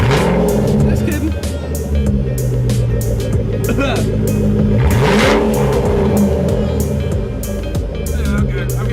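A Ford Shelby GT500 engine revs loudly and steadily with a rough exhaust note throughout, with a few brief pops. People talk over it.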